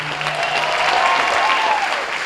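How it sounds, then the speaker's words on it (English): An audience applauds a new executive director at a live event, a steady, loud wash of clapping throughout, with faint voices underneath. "A round of applause for CISA's new executive director."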